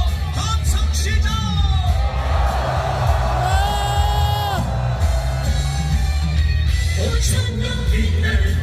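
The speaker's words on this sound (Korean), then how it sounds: "함성 시작!" A large crowd at a candlelight rally in front of the National Assembly main building in Seoul roars with sustained shouts and cheers, loud and continuous, with whistling tones and a drone of voices underneath.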